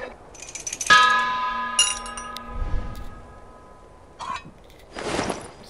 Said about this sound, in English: The mechanism must be a bell.